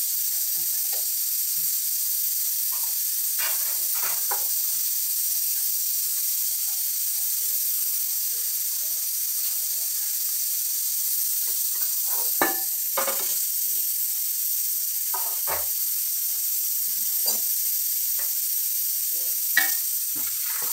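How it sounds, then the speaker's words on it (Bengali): Potatoes and Gobindobhog rice going into a pressure cooker of hot sizzling spices, a steady bright hiss of frying with scattered soft clinks and scrapes, close, no talking. "আমি এইবার আলু চাল সব কিছু দিয়ে দেবো কুকারের মধ্যে"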